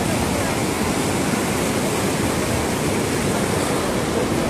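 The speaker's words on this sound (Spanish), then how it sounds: "Como vemos, ahí está el Guayco en el puente." A huayco mudflow torrent in Tacna rushing beneath a bridge, a loud unbroken roar of churning water filling the scene at close range.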